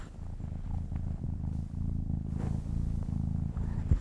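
A kitten held close purrs steadily and continuously, a soft low rumble up near the listener with gentle rhythmic pulses and no talking.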